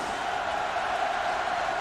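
A football stadium crowd roars after a touchdown in a 2006 college game between Tennessee and Air Force, a steady, broad wash of cheering with no clear breaks.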